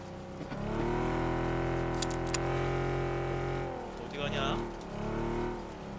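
A car drives in PUBG Battlegrounds, its engine humming steadily and shifting pitch as it moves, with people talking over it.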